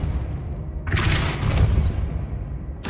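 The Depulso spell is cast in the video game Hogwarts Legacy, giving one short, punchy whooshing blast that swells and fades within about a second and stands alone.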